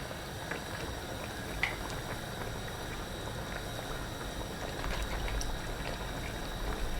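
Steady low bubbling of chicken rica-rica broth simmering and reducing in a pot, a continuous soft burble with occasional small pops, no voices.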